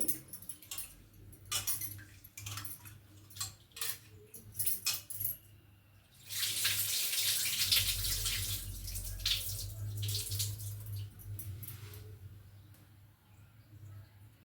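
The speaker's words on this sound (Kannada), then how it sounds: "ಹೆಸರು ಬೇಳೆನ ಚೆನ್ನಾಗಿ ತೊಳ್ಕೊಂಡಾದ್ಮೇಲೆ" Split moong dal (green gram) is washed by hand in water, with intermittent sloshing and rubbing, then a louder, steadier stretch of swirling splashes before it quiets again.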